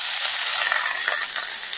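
Cooked rice poured into hot ghee in a pan to make fried rice: a steady bright sizzle and hiss, close and moderately loud, continuing without pause for a short stretch.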